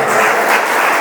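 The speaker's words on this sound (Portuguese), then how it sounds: "Você pode aplaudir Jesus Cristo?" A church congregation breaks into loud, continuous applause during a sermon, a thick burst of many hands clapping together for about a second with no speech on top.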